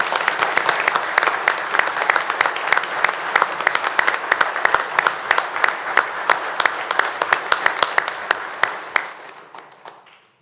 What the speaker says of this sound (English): can we please give these fine employees another round of applause?